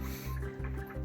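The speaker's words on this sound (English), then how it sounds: "So now we will be starting our water change." Water drips and splashes in a steady, quick rhythm of soft wet plops during a home aquarium water change, heard close up over a constant low background hum.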